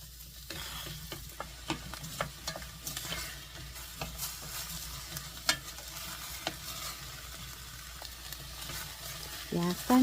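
Sliced onions stir-fried over medium-high heat in a pan with a couple of spoonfuls of water instead of oil, a soft continuous sizzle broken by repeated scraping stir strokes up close, with a faint voice now and then.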